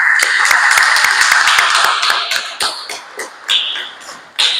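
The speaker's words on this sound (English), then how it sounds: "I direct that we clap for our guest speaker." Members of a youth parliament clap for a guest speaker, with distinct close handclaps forming a brisk, fairly loud round that thins out toward the end, leaving scattered claps and some shuffling.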